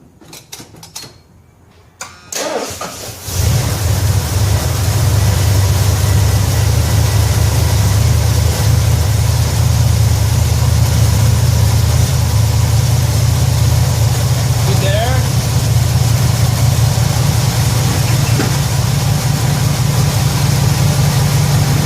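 A 1976 Ford camper engine cold-starts after a short crank, then settles into a loud, steady, low rumbling idle that continues unbroken, with a few faint clicks and a brief voice in the background.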